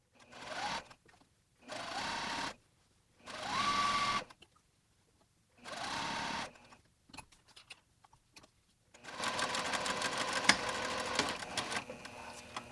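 Short bursts of a sewing machine stitching a pants waistband with a contoured band and side seam pocket, stopping and starting several times, then a longer continuous run at a lower level, close and alone.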